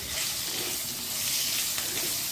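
Green chillies with curd sizzling in a pan as they are stirred, a steady close frying hiss with soft scraping, no talk.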